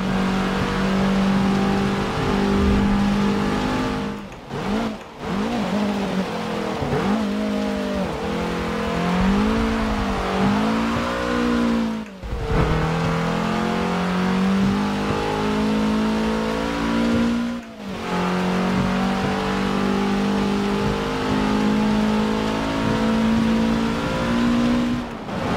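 Race car engine in Forza Motorsport 7 revving up and down through gear changes, its rising and falling whine sustained and loud, with brief drops at shifts and occasional tire noise.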